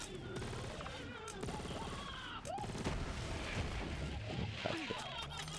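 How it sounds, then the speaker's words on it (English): Grenade explosions and rapid gunfire from Borderlands 3 on Nintendo Switch rumble continuously in a dense, busy game mix, with repeated blasts layered over combat noise. "they definitely toned down the effects of the explosions for this version"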